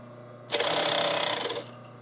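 A sewing machine runs a short burst of top stitching and back stitching on a bodice, a close, rapid whirring chatter of about a second that starts and stops abruptly against a quiet room.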